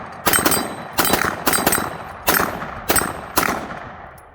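A CZ TSO pistol fires during a shooting match, sounding as six sharp, loud shots spaced roughly half a second apart, each with a short ringing tail, with no talking.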